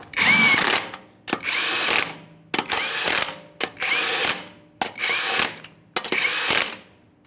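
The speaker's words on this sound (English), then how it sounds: "Start on all 6 of your 21mm lug nuts" Power tool running 21mm lug nuts onto a Ford F-150 wheel, six separate bursts of whirring and rattling impact, each about a second long with short pauses between, close and fairly loud.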